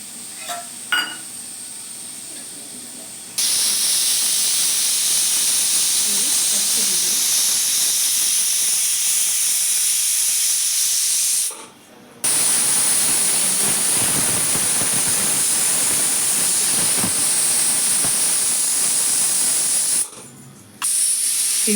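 A pressure cooker on a stove whistles while boti (tripe) curry with gongura cooks: loud, sustained hissing steam bursts up close, each running several seconds, briefly dropping off before blasting again.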